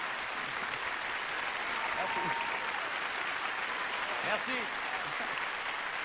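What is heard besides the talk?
audience applause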